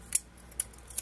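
Scissors snipping scrapbooking paper, three crisp separate cuts spaced evenly, close and clear over a quiet background.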